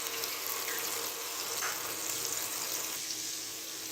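Onions frying on high flame in a pan for kadhi pakora, after cumin, giving a steady hissing sizzle that runs continuously and fairly evenly throughout, with no talk.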